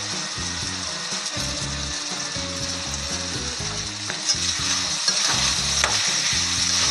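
Fried rice with masala is stirred in a frying pan over a steady loud sizzle, with a spatula scraping the pan in repeated rhythmic strokes throughout.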